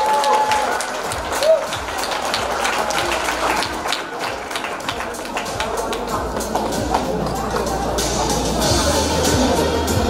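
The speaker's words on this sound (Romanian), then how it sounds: "Vă rog frumos să o aplaudați din nou." Applause from a concert audience at a summer children's vocal music event, dense and sustained clapping filling the whole stretch at steady moderate loudness, with faint chatter and clatter mixed in.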